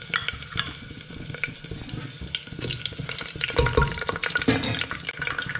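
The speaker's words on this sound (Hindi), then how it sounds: "घी जो है हमारा गर्म हो गया है, तो ये जो मसाले हैं सारे मैंने इसमें डाल दिए" Whole spices sizzle and crackle in hot ghee for chicken pulav, a close, busy frying hiss with stirring scrapes that swell louder midway.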